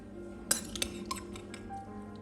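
A spoon clinking against a dish while serving ratatouille, a few sharp bright clinks close by, the first loudest, then softer taps and light scraping.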